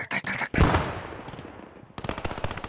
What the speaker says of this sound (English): I hear a lot of gunshots from the north.